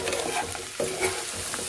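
Soya chunks stirred with chili flakes in a hot pan, a brief close sizzle with a couple of spoon scrapes and taps.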